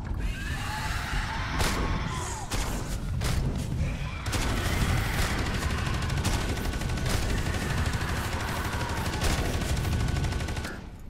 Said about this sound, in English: You rapid fire rockets constantly.